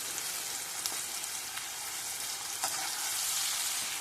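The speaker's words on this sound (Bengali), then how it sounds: "একটু ভালো করে নাড়াচাড়া করে নিচ্ছি।" Chilli chicken fries in a pan while being stirred, a steady close sizzle with a few soft scraping stirs running throughout and no talking.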